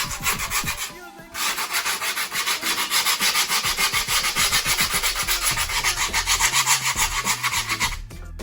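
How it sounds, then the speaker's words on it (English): Sandpaper-like rubbing around the edge of skateboard grip tape, a loud, close, rhythmic back-and-forth scraping that runs continuously after a brief pause near the start. "You're going to sand all around the edge."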